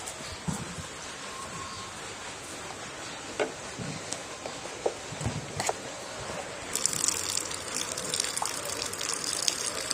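Water is drained from a fish tank with a constant gushing, trickling flow close by, growing a little louder and splashier toward the end.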